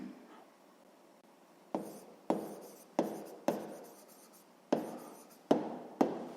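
Pen strokes on paper while someone works through a math exercise by hand: quiet, close scratches in short separate bursts with pauses between, no talking.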